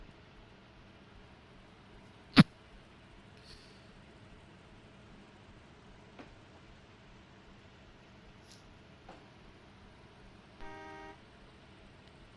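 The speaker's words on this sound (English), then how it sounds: "You're hearing beeping their horns." Car horns toot at a rail crossing in the train simulator Trainz 2022, with one sharp loud honk, a few fainter scattered beeps, and a short sustained horn tone near the end over a quiet hiss.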